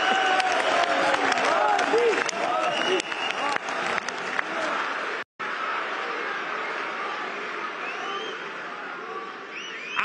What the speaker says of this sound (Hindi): ना मैं करूं तो क्यों ताली बजाते हो?